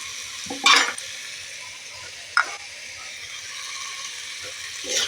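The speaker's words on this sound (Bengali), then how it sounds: "এটা দিয়ে বেশ খানিক্ষণ আমি নাড়তে থাকবো" Potatoes and bamboo shoots frying in a pan for a hill-region bamboo shoot curry, with a few scraping stir strokes that rise above a soft, steady sizzle.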